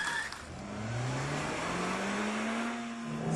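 A Suzuki car pulls away from a standstill on a wet track, its engine note climbing steadily as it accelerates. A continuous hiss of spray and road noise sits under the engine, heard fairly close throughout.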